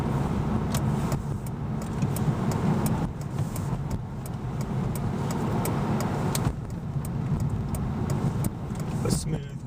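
A 2007 Honda Civic rolls along the road with steady, close tire and engine rumble that stays constant throughout.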